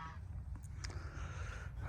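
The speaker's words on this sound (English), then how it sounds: "I'm gonna walk away from the geese too. They're being really loud" A goose gives a short honk at the start, then the air settles into a steady low outdoor rumble with a few faint calls.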